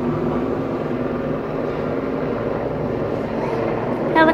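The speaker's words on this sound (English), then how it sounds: "watching a helicopter land" A steady, broad engine roar of a helicopter coming in to land at a hospital, heard from a distance and holding constant throughout.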